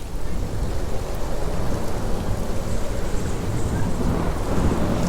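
A staged thunderstorm sound effect for a devotional drama about Govardhan and Annakut: dense, continuous heavy rain roars with low thunder rumbling beneath it, loud and unbroken throughout.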